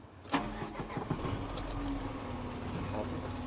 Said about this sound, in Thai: สตาร์ทเครื่องยนต์ครับ